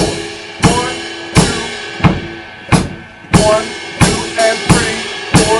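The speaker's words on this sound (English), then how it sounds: "Then he would have me add just 2 notes on the ride cymbal." Rock drum kit groove with ride cymbal accents, played by a drummer at a music school in Rochester, Michigan: steady repeating hits with bright cymbal wash over kick and snare, close and loud, no talking.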